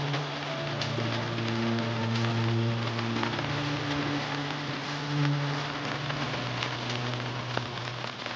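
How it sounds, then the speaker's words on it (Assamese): Rain falls steadily in cool weather near rural Assamese paddy fields, a continuous soft patter with a low steady hum running beneath it and occasional sharper drops. "যিহেতু বতৰটো ঠাণ্ডা, বৰষুণ দি আছে"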